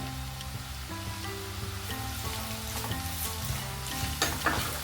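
Garlic and ginger sizzle and fry steadily in a pan over medium-high heat while being sautéed for a spicy Indo-Chinese schezwan chutney, with a faint musical tone underneath and no talking.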